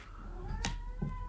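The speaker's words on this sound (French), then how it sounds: "C'est le chat qui râle." A cat lets out a drawn-out grumbling meow, fairly faint, with a short sharp sound midway and a low murmur at the end.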